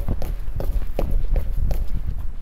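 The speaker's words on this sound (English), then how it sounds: "It's such a loud footstep." Heavy footsteps in the Backrooms video game, a steady run of loud, close thuds at a brisk walking pace, with no talking over them.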